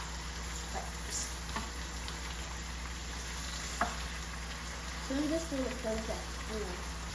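Poulet DG, a Cameroonian chicken dish, sizzling as it fries in a small pot, with a continuous frying hiss, a few sharp pops standing out, and a person speaking briefly toward the end.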